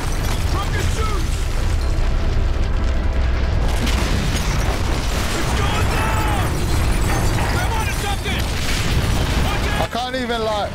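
A rocket blast in the shooter game Call of Duty Ghosts, a loud booming explosion that fills the whole stretch with dense, continuous combat noise and rumble, with a voice talking over it near the end.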